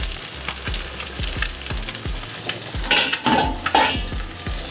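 Whole garlic cloves hit hot oil in a pot of fish curry, crackling and sizzling with repeated sharp pops and stirring scrapes, close and fairly loud.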